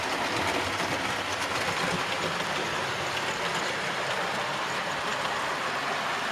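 A Black 5 locomotive on a loft model railway runs steadily through new scenery, giving a continuous close rumble and rolling rail noise with no talk over it.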